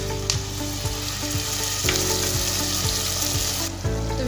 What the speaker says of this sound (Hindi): यहाँ पर हम साथ मसाला भूनते हैं